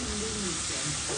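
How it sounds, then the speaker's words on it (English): Whole cumin seeds sizzle in hot oil for fried rice, a brief, even crackling hiss that stays close and loud throughout. "I'm gonna add a little bit of cumin seed, whole cumin seed for my fried rice."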